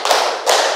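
Two sharp hand claps about a third of a second apart, close and crisp, part of a counted group clapping exercise.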